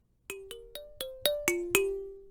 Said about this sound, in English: And then I've got a kalimba sound